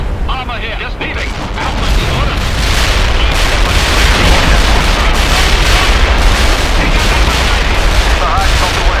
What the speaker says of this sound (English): We're ready with the artillery. We're bombarding the target area.